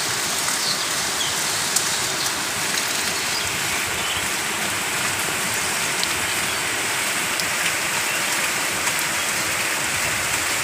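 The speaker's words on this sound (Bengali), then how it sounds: "মুষলধারে বৃষ্টি শুরু হয়েছে।" A heavy downpour pounds down in a steady, dense, loud hiss of rain falling on surfaces, constant from start to finish with no voices.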